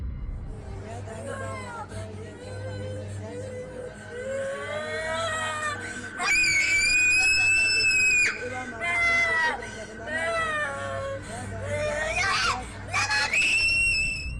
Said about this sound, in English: the girl continues to scream uncontrollably